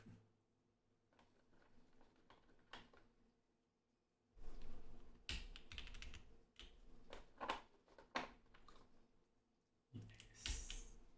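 Keys clack on a custom Hydra mechanical keyboard in quick, uneven bursts of close, crisp strokes, with short pauses between runs.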